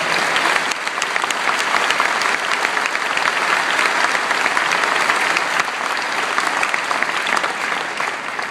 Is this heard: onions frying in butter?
no